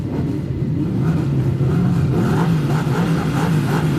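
Speedway race cars at Bay Park build their revs at the start of a race, a loud, close, wavering engine drone that rises and falls over a low rumble.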